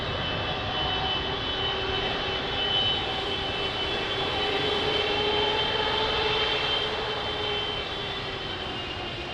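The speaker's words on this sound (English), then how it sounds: "So that takeoff was Angola, airlines 777." An Angola Airlines Boeing 777 takes off at Lisbon Airport in the rain, a loud sustained jet engine roar with a whining tone that swells gently and stays continuous, heard from a distance over steady background noise.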